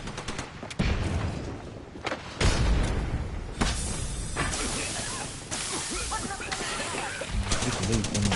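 A frag grenade blast in Apex Legends, a booming burst mixed into heavy gunfire and whooshing game effects, loud and close, with several sharp impacts spread over the stretch.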